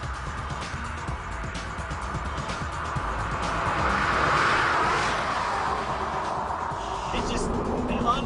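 A Porsche 911 996 with a 3.4-liter flat-six engine on a test drive in Texas hums as a steady, full engine drone inside the cabin, swelling slightly in the middle as the car pulls harder.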